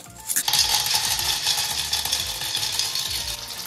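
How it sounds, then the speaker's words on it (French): Clams tumble into a pan with garlic and parsley, setting off a loud, clattering rattle of shells that settles into a steady sizzle. "On y incorpore nos palourdes"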